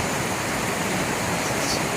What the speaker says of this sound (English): it's pretty much everything's got running water going over it